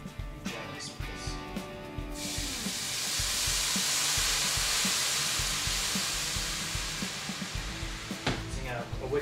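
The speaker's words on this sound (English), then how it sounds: "what I'm going to do is add in about a cup of the wine" About a cup of wine poured into a hot pan to deglaze it for a crock pot roast: a loud, steady sizzling hiss rises over clinking and stirring noises, then quiets back to scattered clatter.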